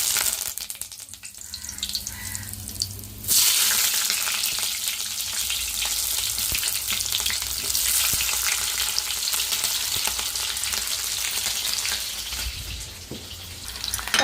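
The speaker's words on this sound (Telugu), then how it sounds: "ఆయిల్ అయితే బాగా వేడింది కదండి కరేపాకు పచ్చిమిర్చి ఉల్లిపాయలు వేసుకున్నాం" Curry leaves, green chillies and onions frying in very hot oil: a quieter start, then a sudden loud crackling sizzle that holds steady and eases slightly near the end.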